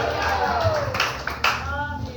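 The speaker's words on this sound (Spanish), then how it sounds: "Dale un aplauso al Señor." A church congregation applauds during a service, a dense, sustained patter of many hands clapping, with voices mixed in underneath.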